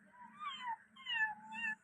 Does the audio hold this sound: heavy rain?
no